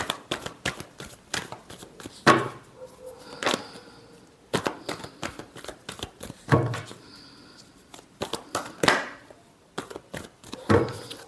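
Crisp riffling of tarot cards being shuffled by hand in several separate bursts, each a quick flutter of slapping card edges, with quiet pauses and a few soft knocks between.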